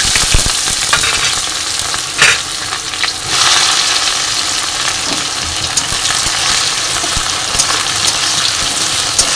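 Dried chilies, black cumin seeds, green chilies and chopped onion fry in hot oil in a pan, giving a steady loud sizzle with a few sharp crackles and stirring clinks throughout, with no talking.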